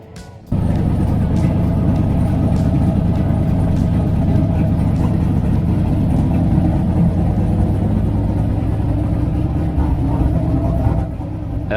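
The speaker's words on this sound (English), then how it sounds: "That low compression motor kind of sounds like a boat, doesn't it?" A big low-compression V8 engine on a dyno runs continuously with a deep, throaty, boat-like rumble, loud and close, holding a steady rough idle-like drone throughout.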